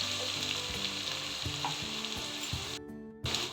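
Onions and green chillies frying in ghee with whole garam masala: a loud, close, continuous sizzle broken by regular stirring scrapes. A short dropout comes near the end, and no one speaks.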